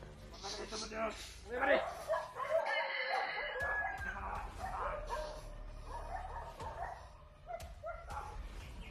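Dogs bark repeatedly on a mountain trail among people, with a rooster crowing in the mix while several voices talk over the noise throughout.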